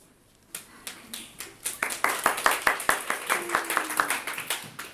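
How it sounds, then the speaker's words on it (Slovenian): Brief applause from an audience at the close of the formal part of a public event: irregular clapping builds after a quiet start into a dense, steady patter, with a faint voice briefly audible partway through. "Po kratkem aplavzu."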